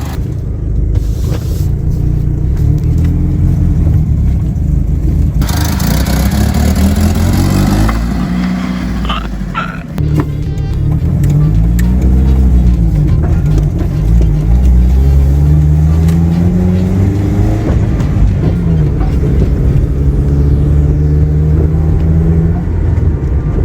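A 1996 Mitsubishi Eclipse engine, running without a front engine mount, idles roughly and revs repeatedly, loud and close, with irregular knocking and clattering throughout.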